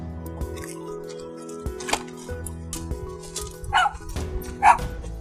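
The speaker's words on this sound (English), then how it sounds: "Dog's going crazy." A dog barks excitedly inside an Airstream trailer home, a few sharp yips and barks rising near the end over a steady mechanical hum.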